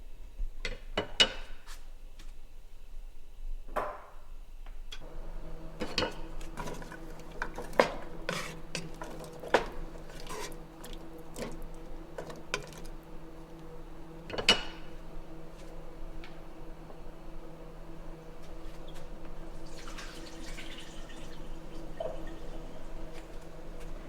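Vegetables and potatoes being stirred into beef stew in a cooking pot: a spoon clinks and scrapes against the pot in irregular, close knocks over a faint steady simmer.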